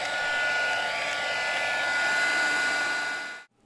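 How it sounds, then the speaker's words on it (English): Heat gun blowing hot air onto a plastic soda bottle to firm up holes: a steady, loud whooshing blower drone with a faint whine, cutting off sharply at the end. "I'm going to hit it with the heat gun to strengthen those holes."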